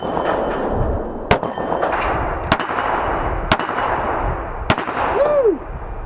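Glock pistol with a ported slide and barrel fired at a range, four sharp loud shots spaced about a second apart over steady outdoor noise, followed by a short voiced exclamation.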